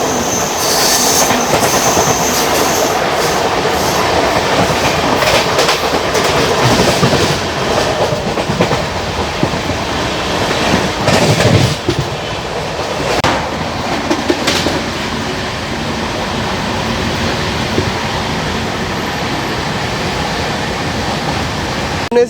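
The Hatia Superfast Express rolls past loud and close, its wagons clattering over the rails with bursts of wheel squeal rising and fading throughout.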